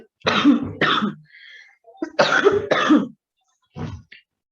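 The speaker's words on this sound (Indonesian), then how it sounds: "Jadi saya kalau kebanyakan ngomong jadi batuk, gatal tenggorokan saya." Someone coughs in close, harsh bursts, two pairs of rough coughs followed by a single softer one.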